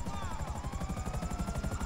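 A helicopter in GTA 5 idles with a fast, steady rotor chop thudding throughout, loud and close, with a turbine whine running above it.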